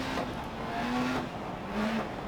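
Rally car engine in the Dirt Rally racing game climbing Pikes Peak, revving moderately with slow gear shifts breaking the pitch twice, heard at a fairly low level with no voices.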